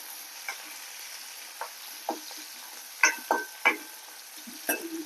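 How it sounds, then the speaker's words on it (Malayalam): A spoon stirs chopped eggplant stir-fry in a hot pan, with a soft steady sizzle and several distinct scraping knocks spaced irregularly, close and fairly quiet. "നന്നായിട്ട് ഇളക്കി കൊടുക്കാം"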